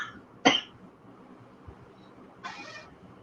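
Two short, sharp coughs from one person, a strong burst near the start and a softer one later, in a quiet indoor room.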